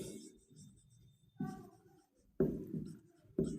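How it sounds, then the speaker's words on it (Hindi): Chalk or marker strokes on a board during a fitter theory class on marking tools, soft scratchy writing sounds in a few distinct bursts, fairly quiet and close, with no talking. "मैं ऊपर मिटा के लिख दे रहा हूँ"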